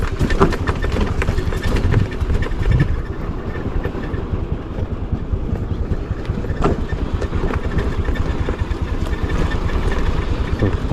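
A vehicle rolls down a steep village road at low speed with full brakes held and the accelerator released, producing a constant close rumbling drone with faint rattles.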